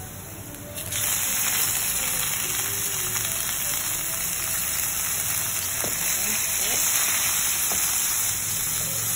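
Steady, loud sizzling of minced meat frying in an old wok, a continuous crackling hiss with occasional scraping clinks throughout.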